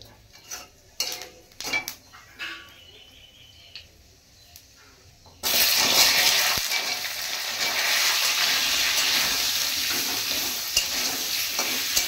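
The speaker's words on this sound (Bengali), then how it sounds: "একটু জিরা ফোড়ন দিলাম" Cumin seeds hitting hot oil in a wok, a sudden loud sizzle that bursts in midway and holds steady as continuous frying, after some earlier scattered utensil clinks in a quiet kitchen.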